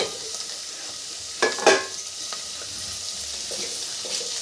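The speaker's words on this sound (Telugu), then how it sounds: "కొంచెం అది నెమ్మదిగా అటు ఇటు కలపండి సో ఇట్లా అటు అటు ఇటు నెమ్మదిగా కలపండి" Small fish curry stirred in a frying pan, with a soft steady sizzle and a few louder scraping stir strokes near the middle, close and without speech.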